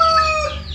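A white hen gives a short, loud, close burst of clucking calls inside a farm coop after laying eggs, alone with no voices.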